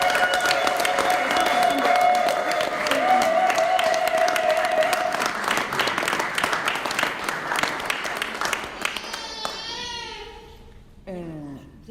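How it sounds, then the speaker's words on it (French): Guests applaud after the couple is declared married at a French civil wedding, a dense burst of clapping with voices and cheers that gradually thins out, followed by music starting near the end. "Vous pouvez applaudir."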